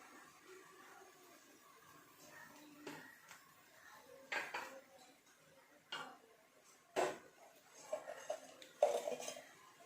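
A utensil scrapes and clinks against a pan while noodle masala and salt are stirred in, giving quiet intermittent taps and scrapes spaced over a soft background.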